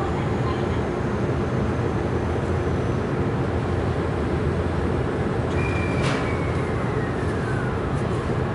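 A JR East limited express train on the Oito Line runs past as a steady, loud broadband rumble throughout, with a faint rising tone near the end.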